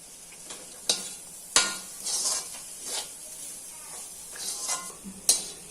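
Curry bubbling and sizzling in a pot, with sharp clinks of a utensil against the rim now and then.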